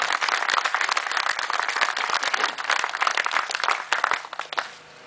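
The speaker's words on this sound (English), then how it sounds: "I think we should just give them a round of applause for their achievement in making this possible" An audience at the Hindhead Tunnel official opening claps in sustained, dense applause that carries on without a break, then tails off abruptly at the end.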